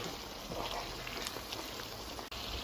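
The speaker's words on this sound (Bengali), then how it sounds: "এখন আমি দিয়ে দিচ্ছি রসুন কুচানো 1 বাটি।" Chopped garlic dropping into a hot cooking pot with chopped onions for a jackfruit seed and dry fish curry, a steady close hiss of oil and moisture with faint crackles, no voices.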